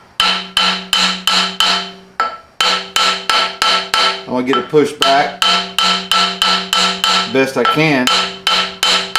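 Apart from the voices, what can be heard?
brass hammer tapping on MGA clutch flywheel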